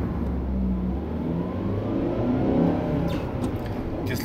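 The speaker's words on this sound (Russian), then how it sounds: "Если при разгоне не выкручивать мотор более 4000 оборотов, то его шум уже не такой назойливый" A Lada Vesta's engine revs under acceleration, a steady mid-pitched drone with a rising whirring note, heard from inside the car at moderate volume throughout.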